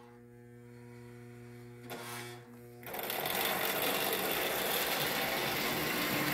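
A small McCoy model motor, freshly oiled, fires up after a whirring start-up hum, then settles into a loud, steady high-pitched buzz as it runs continuously.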